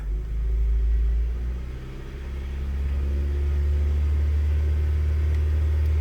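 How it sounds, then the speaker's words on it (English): A 2020 Chevrolet engine with a lean fuel condition revs up to about 2500 RPM and holds there, a loud steady low rumble close by with a brief dip before settling into a constant drone. "So if we RPM it up,"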